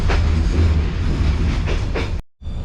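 A loud, steady rumble of the Heritage train rolling along the tracks from Da Nang to Hue in Vietnam, heard from inside, with faint rhythmic clatter before a brief sudden dropout.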